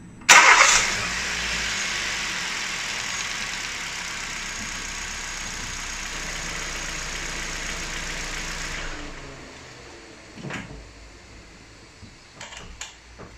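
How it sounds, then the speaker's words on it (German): A Kia Rio 1.2 engine cranks and fires with a sharp burst, then settles into a steady idle for several seconds before going quieter, leaving a few faint mechanical clicks and knocks. "Heißt, wir lassen den Motor einmal laufen."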